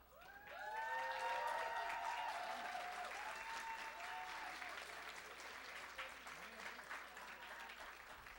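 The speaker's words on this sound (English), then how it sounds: "So a round of applause again." Applause from the crowd at a 20th anniversary celebration swells quickly and holds steady, with a few voices cheering and whooping over the clapping before it begins to thin.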